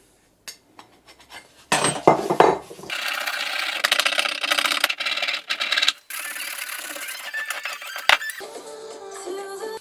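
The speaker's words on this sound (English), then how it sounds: "So you can see it's coming off pretty easy. It's just scraping off." A hand scraper rubs carbon deposits off the metal of a vintage engine cylinder head in a garage. Close, gritty scraping strokes come in bursts separated by short pauses, with a few small metallic clinks near the end.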